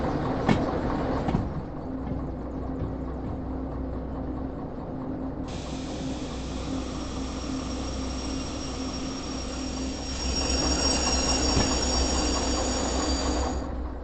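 Train running on rails in the video game Derail Valley, a continuous rolling rumble with clacking and a sustained high wheel squeal that swells louder toward the end, steady and close, no voices.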